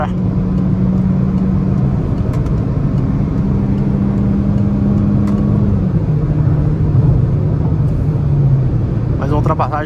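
A 2022 Peugeot 208 Allure with a 1.6 automatic engine accelerates while overtaking on a highway, its steady mid-pitched engine drone rising and then easing under constant road rumble.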